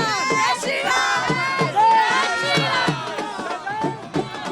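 A large crowd at a Ram Mandir celebration in Ayodhya cheers and shouts in a dense, loud wash of voices, with bursts of yelling and some clapping close by.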